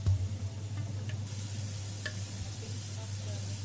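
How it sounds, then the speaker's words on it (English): Baby potatoes sautéing over a medium flame in a pan, a steady low sizzle running throughout, with a few faint clicks of stirring and no voices. "on medium flame we will saute the potatoes for a while"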